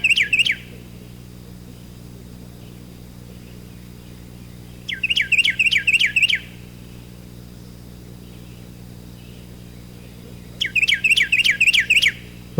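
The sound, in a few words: Carolina wren song, loud ringing phrases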